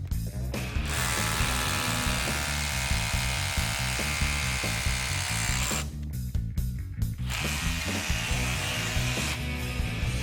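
A RIDGID 18V OCTANE SDS-Plus rotary hammer bores into concrete about four inches thick, a loud, steady hammering drone with a brief pause midway before drilling resumes.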